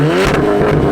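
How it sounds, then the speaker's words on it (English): A Volkswagen Mk6 GTI with a catless exhaust revs hard in one short, very loud burst, the engine note rising and rasping close by with no talk over it. "let's hear a couple of revs in a second."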